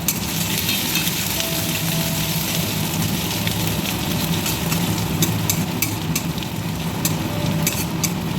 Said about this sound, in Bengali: রসুনটা ভাজা হয়ে গেছে, আমি এখানে আদা দিয়ে দিচ্ছি